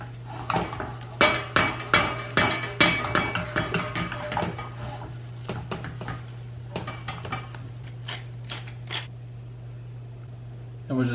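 Metal utensil clinks and scrapes against a frying pan as an omelet cooks and is flipped, a quick run of sharp taps over a steady hum, thinning out toward the end.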